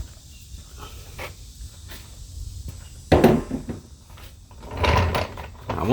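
Metallic clanks and scraping of a wrench working loose a 14 mm oil drain bolt on a 2004–2009 Toyota Prius, a few sharp knocks with quiet pauses between, up close.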